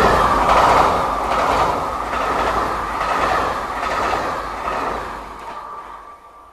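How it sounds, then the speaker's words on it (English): A TGV high-speed train rolls steadily into a French station, a continuous rumble with rhythmic clickety-clack of wheels over rail joints, loud and close before easing off at the end; no talking. "Le TGV numéro 424, départ initialement prévu à 20h12, entrera en gare"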